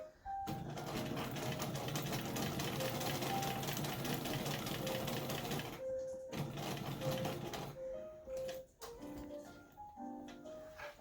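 Sewing machine stitching a fall pillow cover, running steadily at close range with a dense mechanical whir, then several short bursts and pauses as it stops and restarts, set to a very short stitch length.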